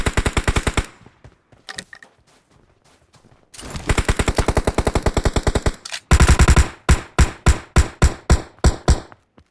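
Rapid automatic gunfire in PUBG Mobile, a dense burst followed by a long sustained volley and then sharper, heavier shots spaced in a steady rhythm, loud and close with brief quiet gaps between.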